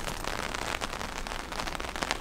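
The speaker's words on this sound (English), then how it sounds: "Bring the rain, baby." Rain falls on a street in Ragusa, a steady dense patter and hiss that stays constant and fairly close, with no one talking.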